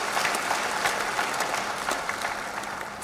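A meeting crowd applauds to adopt recommendations, a dense, even wash of clapping from many hands that holds steady for a few seconds.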